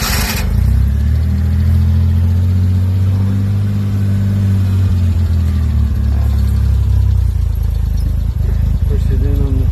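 Car engine already warmed up, running steadily nearby with a deep rumbling drone that rises slightly in pitch in the middle, with a person talking over it.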